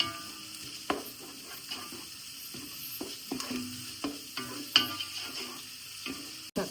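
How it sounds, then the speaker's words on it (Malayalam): A crushed paste for king fish biryani sautéing in a pan, a soft continuous sizzle broken by close scraping and stirring strokes at an irregular pace, with no talking. "നല്ല പച്ചമണം മാറുന്നവരെ അത് വഴറ്റി കൊടുക്കാം"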